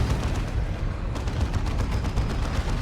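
Venom Cannon fire from a Hive Tyrant in Dawn of War 2 during a Chaos Space Marines versus Tyranids battle: a dense, loud, continuous barrage of rapid booming shots and impacts with no voices.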